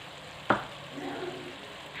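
Mutton mince fries in a pan as tomato and ginger garlic paste go in, with one sharp clatter followed by a soft, steady sizzle.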